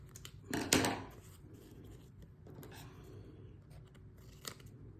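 Scissors trim paper on a scrapbook layout piece, one louder close snip near the start followed by softer scraping cuts and faint rustle in a quiet room.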